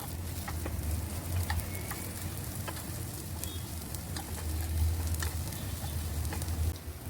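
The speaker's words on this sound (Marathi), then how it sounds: "आता आपण दुसऱ्या साईडनी भाजून घेऊया" Vegetable tikki patties pan-roasting on their second side for mini burgers give a steady, soft sizzle with scattered small crackles and ticks, close and even throughout, with no talking.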